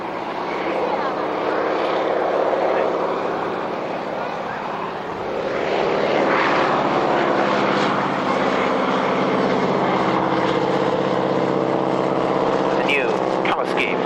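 Aerobatic propeller airplane flying knife-edge and inverted passes at the 1996 Yeovil airshow: a loud sustained engine drone that swells and shifts in pitch as it passes, with outdoor crowd ambience and commentary voices underneath.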